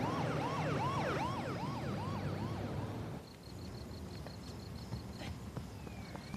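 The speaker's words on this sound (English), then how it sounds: "put in a fire truck to be taken to the hospital" A fire truck's wailing siren rises and falls rapidly for a few seconds, then cuts out, leaving traffic rumble and faint repeated beeps.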